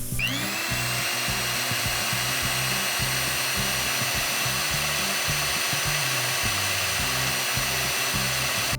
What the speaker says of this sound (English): Add sugar and beat it with an electric mixer.